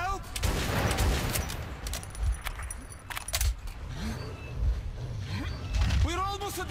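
Gunfire in the Metro 2033 video game rattles in rapid bursts of shots with mechanical clatter, loud and close, while voices shout over the firefight.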